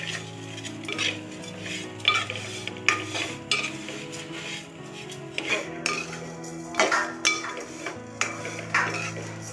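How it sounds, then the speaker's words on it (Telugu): Vermicelli being stirred and fried in ghee in a metal pan, with repeated clinks and scrapes of a utensil against the pan over a soft sizzle. "ఇవి నెయ్యిలో దోరగా వేపు పెట్టుకొని"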